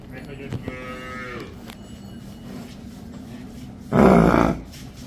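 A dairy-farm buffalo gives a loud, low moo lasting under a second, with a softer lowing call earlier and steady farmyard background noise around it.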